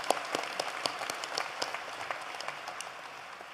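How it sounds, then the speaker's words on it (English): A university convocation audience gives a round of applause, steady dense clapping at moderate distance that gradually thins and fades. "Let's give it a round of applause again."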